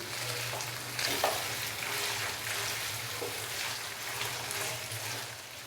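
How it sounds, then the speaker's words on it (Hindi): Chicken fries in a pot for kala chana pulao, a steady close sizzle with scraping stirring strokes over it and no talking. "चिकन डालने के बाद हम चिकन को अच्छे से फ्राई कर लेंगे 3 से 4 मिनट के लिए।"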